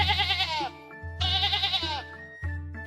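Two long, wavering sheep bleats close to the microphone, followed by the start of a third, loud and alone with no talking.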